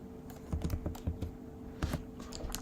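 Quiet computer keyboard typing in short clustered bursts of light key taps, entering a grid style name, with no one talking.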